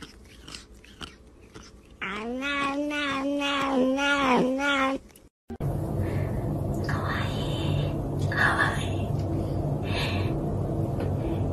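A cat gives a run of loud, drawn-out meows close by, several wavering cries in a row, then the sound cuts to a noisier stretch with fainter rustling and mouth sounds.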